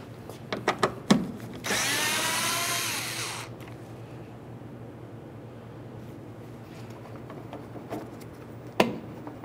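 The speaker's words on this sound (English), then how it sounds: "remove your 10mm headed bolt" A power tool spins out 10mm bolts holding the rear bumper cover on a 2012-2018 Nissan Altima, with a whirring burst of about two seconds after a few sharp clicks and knocks, then quiet handling noises and a final knock.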